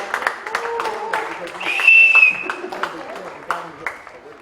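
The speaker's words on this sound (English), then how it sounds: "One more round of applause" Scattered applause and clapping from spectators at a polo match at The Villages Polo Club, heard beneath someone talking loudly over it, with a brief high whistle-like tone in the middle.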